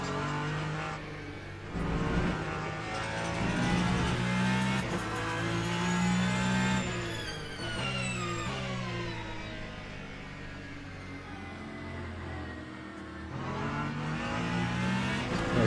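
Hypercar and GT3 race cars in Le Mans Ultimate lapping a wet Spa circuit, engines droning and revving in overlapping waves with gear-change dips, steady and fairly loud throughout.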